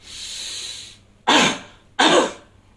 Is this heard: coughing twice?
yes